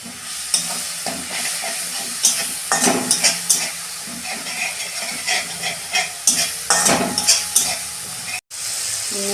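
Spices with Kashmiri chili powder and a splash of water sautéing in a pan for a fish curry with ridge gourd, potato and eggplant; loud sizzling with repeated spatula scrapes and utensil clinks, up close.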